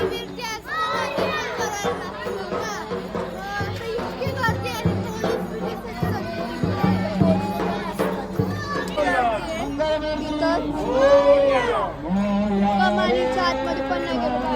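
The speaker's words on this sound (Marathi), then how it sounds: "आणि तिथं गणपती आमचा 5 दिवसाचा गणपती विसर्जन करण्यासाठी एवढी गर्दी आहे तिथं बघा." Dense crowd at a lake during a five-day Ganpati immersion, with children's voices and overlapping chatter filling the scene continuously, loud and close, with one voice speaking over the babble.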